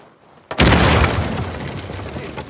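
Brief quiet, then a sudden loud boom from a dynamite explosion in the video game Uncharted 4, followed by a long rumbling, debris-filled decay.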